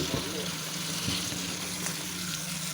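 Fish frying in a pan for a fish curry, a steady broadband sizzle with crackling pops throughout, close and fairly loud, over a low background hum.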